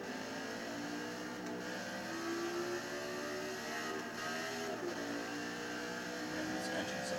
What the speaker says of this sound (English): Man, this engine sounds awesome.